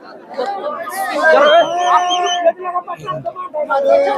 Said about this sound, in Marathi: बघू शकता गर्दी बघा फक्त गर्दी आणि बाकासूरला बघण्यासाठी भरपूर गर्दी आली